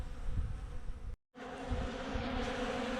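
Honey bees buzz thickly at the entrance of a busy, treatment-free hive as they haul out dead bees. The hum is dense and continuous, close to the microphone, and breaks off for a brief moment midway.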